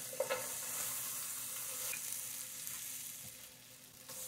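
Onions frying in oil in a pan and being stirred with a spatula while cooking Ghanaian pepper okra soup, a steady close sizzle with a few scraping stirs near the start, no talking.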